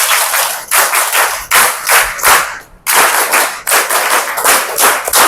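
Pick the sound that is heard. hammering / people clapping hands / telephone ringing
people clapping hands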